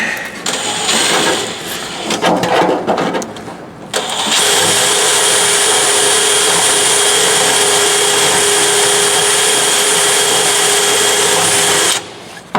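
A power drill boring holes in the back of a 1970 El Camino: a few seconds of clattering handling noise, then a loud, steady, high motor whine for about eight seconds before it stops.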